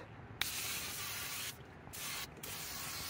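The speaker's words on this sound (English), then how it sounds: "I'm just gonna spray everything, including the chute here, with silicone spray" Silicone spray hisses from an aerosol can onto a snow blower's chute and metal surfaces in three bursts, the first longest, each a close, steady sharp hiss separated by brief pauses.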